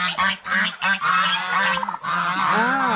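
Loud, close honking calls from ducks and turkeys on a farm, repeated in quick bursts and overlapping one another with no pause.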